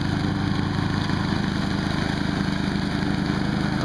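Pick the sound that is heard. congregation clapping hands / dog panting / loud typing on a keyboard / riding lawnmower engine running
riding lawnmower engine running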